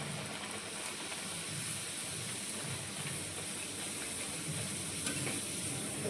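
Puris for a luchi breakfast deep-frying in hot oil, a steady, dense sizzle that stays even and continuous throughout with no talking.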